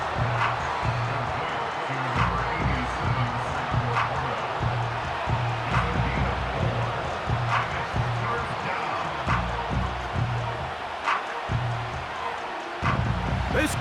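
Large football stadium crowd at a Lions vs Panthers game roars with steady, loud, sustained cheering and a broad wash of noise, with a commentator talking over it throughout.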